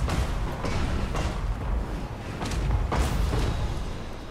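Steam tanks and cannons fire in a large Total War: Warhammer battle, a steady barrage of muffled booms and thuds rolling under continuous rumbling noise, with heavier bursts near the middle and end.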